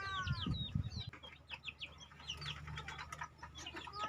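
Chicken chicks in a brooding pen during the breeding and pre-rearing stage, with dense high-pitched peeping and chirping from many birds. Some brief rustling and a low hum sit under the calls.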